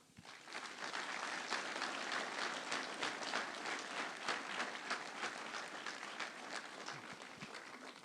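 Sustained audience applause fills a New Year's greetings ceremony for a village's residents, dense steady clapping from a sizable crowd that holds for several seconds at an even loudness.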